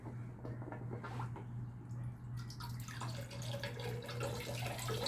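A pump sends cooling water to the head of an air compressor used to fill a Hatsan Flash air rifle, a close running trickle and splash of water over a low steady hum, with no talking.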